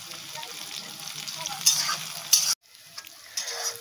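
Chopped onion, garlic, slit green chilies, nigella seeds, two bay leaves and dried chili fry in oil, a steady close sizzle with scraping stirring strokes and a brief cut to near silence midway.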